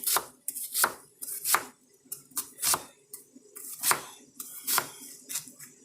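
Onion chopped finely on a cutting board with a knife, a run of sharp, close, uneven chops in quick bursts with short pauses between.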